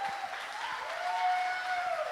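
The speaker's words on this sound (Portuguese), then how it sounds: "vamos recebê-lo com aplausos e muita alegria" A church congregation at a Zion Xperience youth event applauds in a continuous, even wash of clapping, with sustained music tones ringing underneath.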